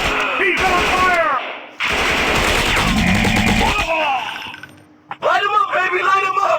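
Rifle gunfire in the Commando Strike video game comes as dense, loud bursts of rapid shots, mixed with excited shouting and game sounds, with pauses between the volleys.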